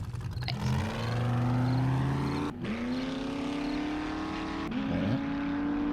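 In 7 Days To Die, a vehicle's engine drones steadily and climbs in pitch as it drives off, with a couple of abrupt shifts in tone. It is loud and close, with no talk.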